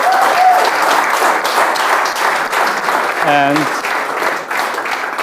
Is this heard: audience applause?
yes